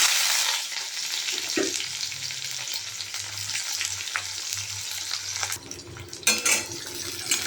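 Onions frying in hot oil in a wok, a steady close sizzle with a low bubbling hum, a few clinks and stirring scrapes, and a louder burst of crackle near the end.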